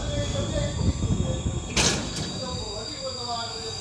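A passenger train pulling to a halt at Uchauliya station on the Shahjahanpur to Sitapur line: steady low rumble and squealing brake tones, a sharp hiss of air partway through, then quieter rolling as it settles.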